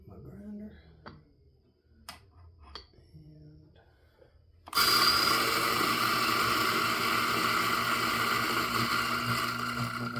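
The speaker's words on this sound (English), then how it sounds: "Hit my grinder." A coffee grinder grinds beans for an Aeropress. Quiet clicks and handling noises come first, then a sudden loud, steady, close grinding whir starts partway through and runs to the end.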